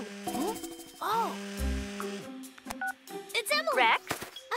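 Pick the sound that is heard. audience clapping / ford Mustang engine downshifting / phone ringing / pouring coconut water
phone ringing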